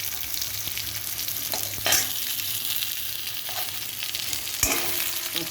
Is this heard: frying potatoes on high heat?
yes